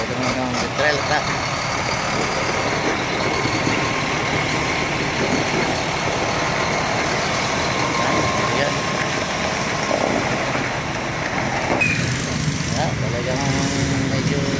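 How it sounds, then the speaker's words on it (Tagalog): A trailer truck's engine rumbles steadily nearby in heavy traffic, a continuous low drone under street noise with people talking over it. "Ito naman ang trail truck."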